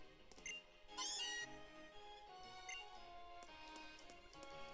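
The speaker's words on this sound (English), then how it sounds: "There are a bunch of meowths." Cartoonish Meowth cat cries from Pokémon Ultra Moon, several short synthesized meows popping up over soft game music, quiet and with no talking.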